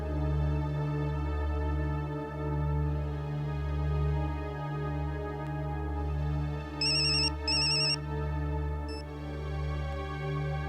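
A telephone rings in a steady repeating pattern after a number is redialed, loud and continuous, with a few brief higher beeps laid over it.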